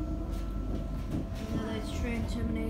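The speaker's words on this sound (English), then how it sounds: "Another train terminates about the airport." A Tyne and Wear Metro train runs with a steady low rumble and faint rail clatter from inside the carriage, with soft passenger chatter beneath.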